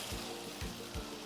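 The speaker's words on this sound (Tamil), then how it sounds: "இப்போ நம்ம வெட்டி வச்சுருக்கிற தக்காளி ஆட் பண்ணுவோம்." Chopped tomatoes dropped into hot oil in a pan for a traditional Tamil paruppu urundai kulambu, giving a steady close sizzle with a few soft stirring thumps.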